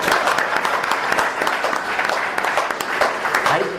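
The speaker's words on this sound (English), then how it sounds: "I'd like to start off with a round of applause for Mike." A workshop audience claps steadily, the applause dense and fairly loud, with individual hand strikes audible through the sustained wash and no clear talk on top.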